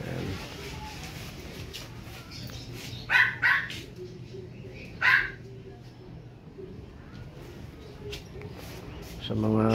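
A husky barking a few times in a short burst partway through, fairly near, with low background noise and a voice briefly heard at the end.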